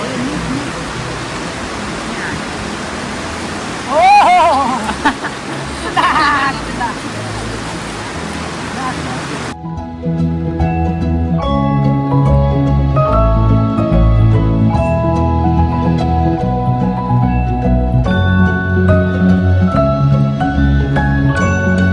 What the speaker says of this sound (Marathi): पाण्याचा पण आवाज बघितला ना कसला भारी येतो